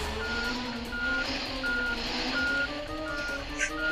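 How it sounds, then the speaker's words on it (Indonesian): Reversing beeps sound in a steady repeating rhythm from a truck backing up a double trailer in Truckers of Europe 3, loud and close over a constant engine rumble. "Wah ternyata lebih sulit ya guys ya memundurkan truk double trailer seperti ini guys."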